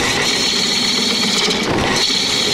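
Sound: wood lathe turning a log into a bowl

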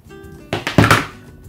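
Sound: cutting off bullet connector terminals from e-bike battery wires

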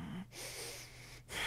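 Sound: breathing during Pilates hundred exercise

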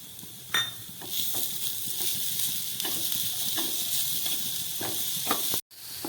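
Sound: frying grated coconut with jaggery in a pan

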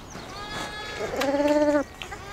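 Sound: sheep bleating on the South Downs hills

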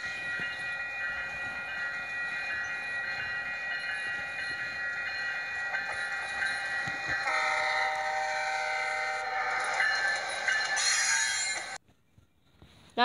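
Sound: GE P42DC locomotive horn

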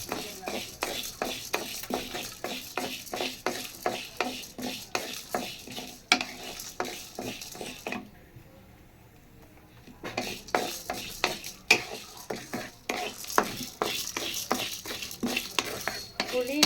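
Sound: dry roasting tamarind, lentils, chillies and drumstick leaves in pan

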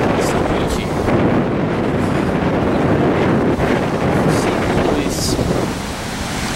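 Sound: sea waves at beach where river meets sea

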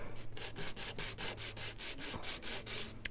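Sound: banjo bridge rubbed back and forth on sandpaper

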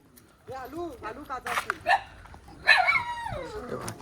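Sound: small dog barking

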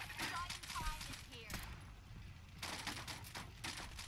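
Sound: Institute pistol gunfire in video game Fallout 4

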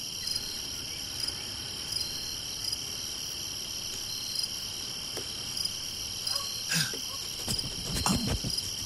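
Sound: frogs or crickets chirping on a vinyl record

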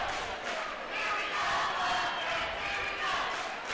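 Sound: basketball crowd being worked up during a game

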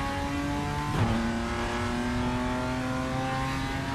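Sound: BMW M2 CS racing car engine accelerating in video game RaceRoom

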